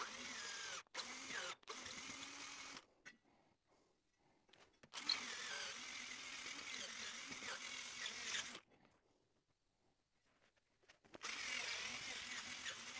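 A cordless drill fitted with a 9.5 mm bit bores a hole deeper in quiet, grinding bursts separated by pauses, fairly faint and close by.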